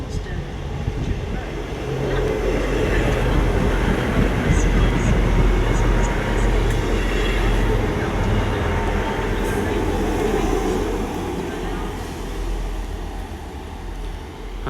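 A Class 158 diesel unit pulling into Exeter Central station, heard as a steady, loud rumble and rolling rail noise that holds for the whole stretch, with faint squeals on top.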